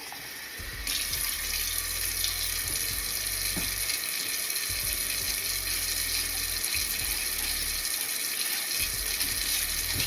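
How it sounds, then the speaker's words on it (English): Tap water gushes steadily into a jar, a constant loud rushing that starts abruptly and continues to the end. "and then you just fill the jar up with water."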